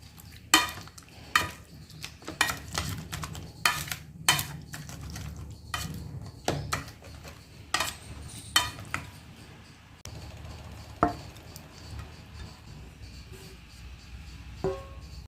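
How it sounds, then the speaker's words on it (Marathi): Hot cooked tomatoes being crushed for chutney, with repeated sharp clacks and knocks of a utensil against a pot, irregular and fairly close, pausing briefly near the end with no talk. "गरम असतानाच क्रश करा म्हणजे बारीक छान होतं"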